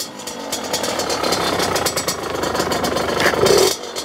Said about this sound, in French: donc vous démarrez votre moto